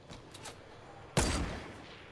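Gunfire in the Fortnite battle royale video game: one sharp, loud shot bursts out after a quiet stretch and rings out as it decays, with faint softer game noises before it.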